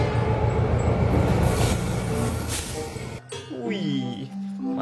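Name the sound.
model train locomotive CC206 running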